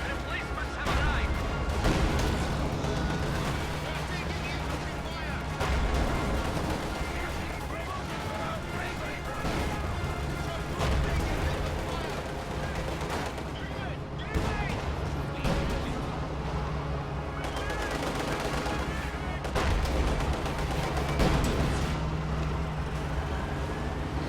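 Continuous wartime game din as a B4 howitzer and a KV-1 tank fire amid rumbling engines and scattered gunfire, steady and loud throughout, with a commentator talking over it.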